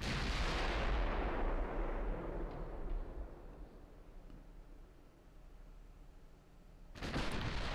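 Naval artillery in the video game Ultimate Admiral: Dreadnoughts fires a heavy booming salvo that rumbles and fades over several seconds, followed by a second loud blast at the end.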